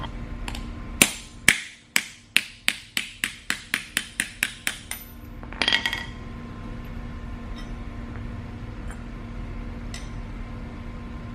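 A Honda S2000 pulley bearing is pressed out with a socket over a pipe in a bench vise: about a dozen sharp metallic clicks and knocks in a slowing, regular series, then a short grinding creak and quiet hum.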